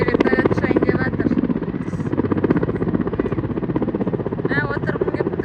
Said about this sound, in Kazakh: Смотрите, вертолет шайын деп жатыр.